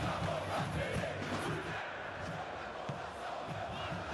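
Stadium crowd noise from a PES 20 football match, Paraná against América-MG, a steady broad roar of fans running under the game audio, loud and continuous without distinct peaks.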